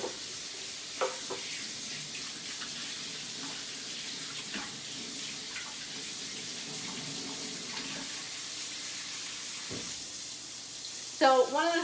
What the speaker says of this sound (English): Wash up my hands.